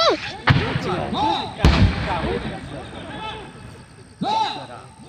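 Sharp rifle shots at a shooting practice range, two close loud cracks early on and a third later, with military commands and talk running through.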